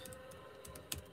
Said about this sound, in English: Look, I'm typing in.